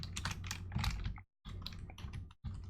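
Rapid, dense typing on a computer keyboard, close and loud, with keystrokes clattering continuously in two short pauses and no talking.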